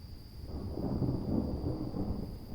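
Rolling thunder from a thunderstorm rumbles low and steady for a few seconds, a distant, sustained roar with no talk over it and a faint constant electronic whine in the background.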